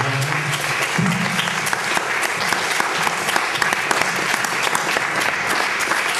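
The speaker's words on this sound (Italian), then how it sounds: "di ringraziare con un bel applauso Andrea" An audience at an Italian design talk breaks into sustained, dense applause thanking a speaker, loud and even throughout, with a brief voice near the start.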